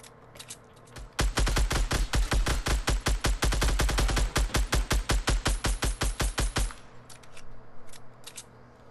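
Long automatic burst of gunfire in Solid Gold gameplay, dozens of sharp evenly spaced shots rattling loud and close for several seconds before stopping, with faint quieter sounds around it.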